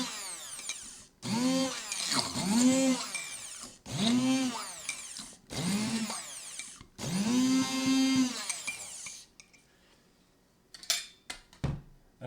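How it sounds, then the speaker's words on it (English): A small food processor pulsing chopped beets, five loud whirring bursts of a couple of seconds each with rising and falling motor pitch, separated by short pauses and followed by faint clatter. "you can do it in a food processor. And I just have a little one here. Put it on pulse."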